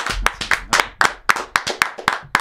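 Hand clapping from an audience at a French football World Cup qualification show comes as a steady, evenly spaced run of sharp claps, close and distinct, with no talking.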